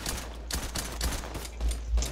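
Bursts of automatic gunfire in the video game Free Fire, several rapid volleys of sharp shots at irregular intervals with no talk over them.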